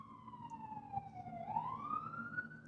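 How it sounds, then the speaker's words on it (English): Wailing emergency vehicle siren heard from indoors, faint and distant, its pitch sweeping down and then back up over a low background hum. "It's just fucking sirens all day."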